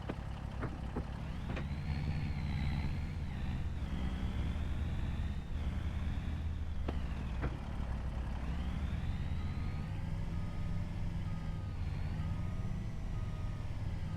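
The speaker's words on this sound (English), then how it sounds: "oh man, the engine." A Volvo truck engine in Farming Simulator 25 runs steadily throughout, a loud, continuous rumble whose revs rise and fall in smooth swells, with a few brief clicks and no talking.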